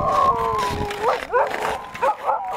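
A dog on a remote northern Russian peninsula howls and whimpers in a long wavering cry that breaks into shorter yelping rises, close and fairly loud, with no speech.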